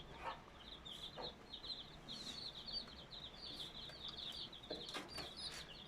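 A broody Gurk hen clucks softly with chicks peeping in a busy, high-pitched chatter, quiet and close with a light background hiss.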